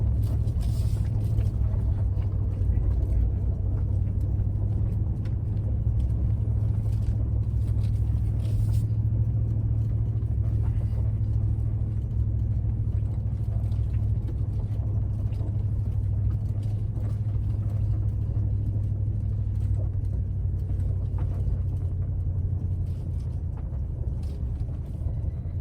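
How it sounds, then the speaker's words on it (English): An old truck in 4-wheel drive pulls a travel trailer uphill, its engine a loud, steady, low rumble that drones on without a break and carries some rattling and road noise. "Yeah, old truck's taking it like a champ."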